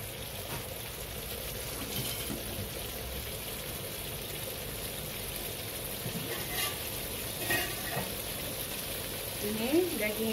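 Marinated beef for kuzi daging fries in a wok, giving a faint, steady sizzle and crackle throughout, with occasional stirring clatter toward the end.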